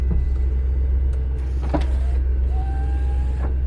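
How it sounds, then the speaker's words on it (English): A Range Rover's power windows whir down with a thin electric motor whine over the steady, loud rumble of its idling engine, with a couple of short clicks and thumps from the door. "And bring some windows down."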